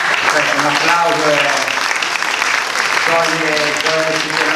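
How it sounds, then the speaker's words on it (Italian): A theatre audience at a 2017/18 season presentation bursts into loud, continuous applause. A voice speaks over the clapping at the start and again near the end. "un applauso"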